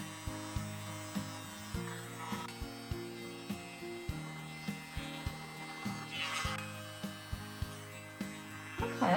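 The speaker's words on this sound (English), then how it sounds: "it's the tiniest blow dryer in the world" A tiny blow dryer's small motor whirs continuously with a steady electric hum while drying acrylic pour paint, punctuated by repeated rubbing and clicking sounds close by.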